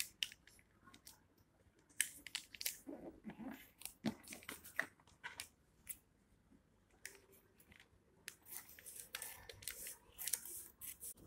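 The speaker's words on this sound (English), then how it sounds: "Now we have to cut leaf." Scissors snip through a paper leaf shape in a quiet indoor classroom craft activity, a series of short sharp cutting clicks and crunches coming irregularly and close by, with no talking.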